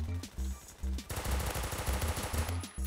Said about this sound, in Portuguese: tem sniper me atirando